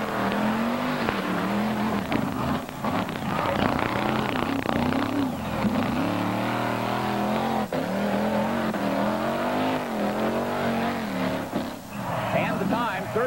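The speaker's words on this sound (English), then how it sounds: "First up is Gary DeMauro, the 36-year-old driver of this unusual 1946 Chevrolet tow truck" A 1946 Chevrolet tow truck at a 1989 NMRO mud race in Bloomsburg, Pennsylvania roars steadily over cars, its engine droning and surging throughout under continuous announcer commentary.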